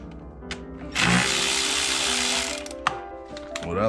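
Airbox clamp on a 2000-2006 GM truck with a 4.8L, 5.3L or 6.0L V8 being loosened with an 8mm socket: a loud, steady whirring run of a power driver lasting about one and a half seconds, with brief clicks before and after.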